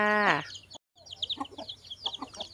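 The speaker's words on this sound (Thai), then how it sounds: "มาเบิ่งไก่คุณยายค่ะ" Chickens cluck nearby in short, scattered bursts, opening with a loud crow-like call, amid faint farmyard background noise.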